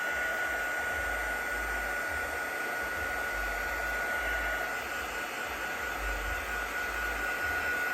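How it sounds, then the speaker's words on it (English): A heat tool blows hot air over vellum in a steady, loud broadband whoosh with a faint whine, lasting throughout and shifting slightly as the tool is kept moving. "So it's constant moving of my heat tool here."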